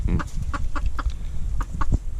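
Laying hens cluck in a run as new purebred hens are introduced, a close series of short, sharp clucks in quick uneven bursts, loud against faint farmyard background.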